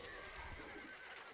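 A horse whinnies in the medieval strategy game Stronghold Crusader HD, a loud, close neigh that rises and wavers, with faint hoof clip-clop mixed in.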